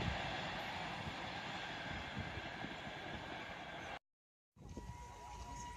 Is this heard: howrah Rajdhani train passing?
yes